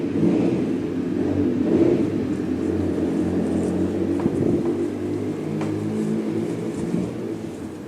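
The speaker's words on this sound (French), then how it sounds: "ne faites pas de gaffe à la moto," A motorcycle engine hums and revs nearby, a steady mid-pitched drone that swells slightly and fades as it passes, with no voices.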